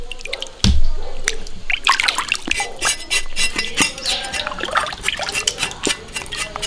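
Pork knuckle being washed in water in a large pot, with close splashing, drips and trickles plus an occasional clink against the vessel, continuing irregularly throughout.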